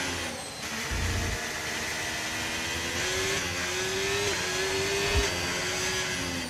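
A racing car engine in a video game droning steadily at high revs, with slight pitch shifts as it accelerates, loud and continuous with no voices.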